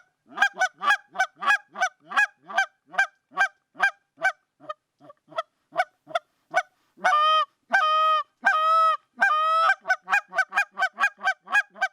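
A Zink goose call blown close and loud, giving a long run of sharp rhythmic honks and clucks, then a few drawn-out, moaning multi-note calls before the quick honking picks up again.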